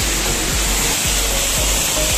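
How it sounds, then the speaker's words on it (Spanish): Cascada Blanca waterfall in Matagalpa, Nicaragua roars with a steady, loud, broadband rush of falling water, continuous and close, with no voices. "es por esto que se llama Cascada Blanca"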